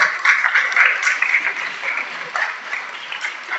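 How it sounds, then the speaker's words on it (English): An audience at a high school scholarship awards ceremony claps for the students' parents, a steady round of applause that is loudest at the start and gently tapers off, with no talking over it. "So parents, you get a round of applause as well"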